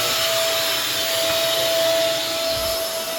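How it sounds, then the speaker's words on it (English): A vacuum cleaner runs steadily in a room of a house during a gas line installation, giving a loud, continuous broadband roar with a thin constant whine and no talk over it. "They're vacuuming up in here"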